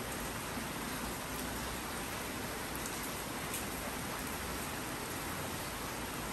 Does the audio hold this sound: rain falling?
yes